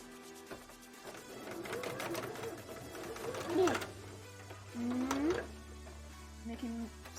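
A sewing machine whirs in short bursts, stitching while a bra is being made, with a voice talking over the mechanical hum and several stops and starts.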